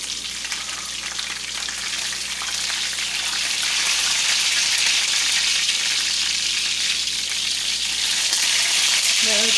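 Parmesan-crusted pork chops fry in a pan with a steady, dense sizzle that swells slightly louder as it goes on, with a brief clink near the end.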